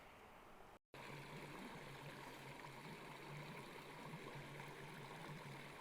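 Water flows in the Laurel Canyon stream in the Santa Teresa Wilderness, a continuous soft rushing and trickling after a brief dropout at the start, faint and steady, with no voices.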